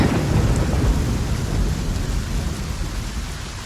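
Video game sound: steady heavy rain pours down with a deep, continuous rumble of thunder underneath, gradually easing slightly toward the end.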